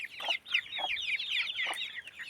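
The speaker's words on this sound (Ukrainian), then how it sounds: "Да, кури." Several hens clucking and chattering close by, short bursts of busy, overlapping clucks with no talking.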